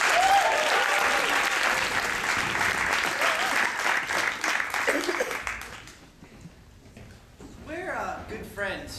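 An improv show audience gives loud, sustained applause for two performers, which fades out after about six seconds before a voice starts talking.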